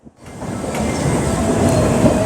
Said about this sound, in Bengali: ওদিকে রিভার্সালে শান্টিং হচ্ছে একদম P7 নিয়ে